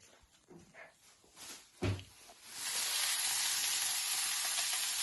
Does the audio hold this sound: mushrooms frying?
yes